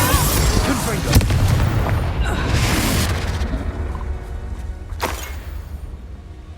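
Confringo explosion spell cast in the video game Hogwarts Legacy: a couple of booming blasts burst out of dense, busy game sound, with a voice speaking in the mix.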